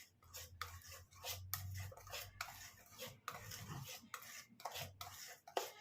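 Cake batter being folded by hand with a cut-and-fold motion, giving soft, repeated scraping and stirring strokes in an uneven rhythm, close and fairly quiet, with no one talking.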